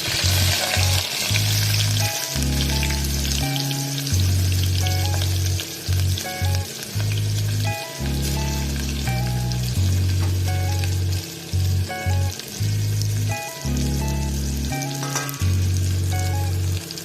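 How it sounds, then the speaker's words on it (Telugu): Onions fry in hot oil with a loud, close crackling sizzle that goes on throughout, broken by repeated rhythmic scraping and stirring strokes, and no one talks over it. "బ్రౌనిష్ కలర్ లో అయ్యే వరకు మనం ఫ్రై చేసుకోవాలి."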